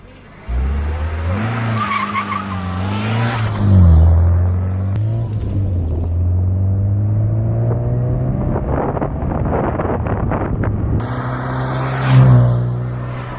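A car launching from a standing start in an acceleration test, engine note climbing in rising harmonic sweeps with a brief tire squeal, loud and close, then a second burst of revving near the end.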